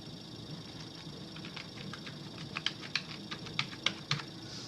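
Fingers tap out an Aadhaar card number on a computer keyboard, a quiet run of light, irregular key clicks that grows a little crisper toward the end over faint room hiss.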